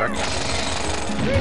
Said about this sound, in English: We got our new drilling ability.